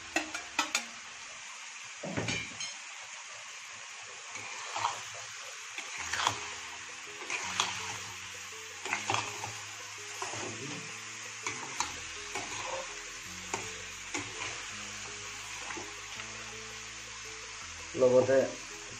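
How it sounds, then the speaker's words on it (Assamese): Chopped onions are added to a pan of rendered pork fat and sizzle quietly, with intermittent stirring scrapes and utensil clinks against the pan, close by, while a person talks over the cooking. "এতিয়া মই যিখিনি পিঁয়াজ কাটি লৈছিলোঁ পিঁয়াজখিনি যোগ কৰি দিছোঁ।"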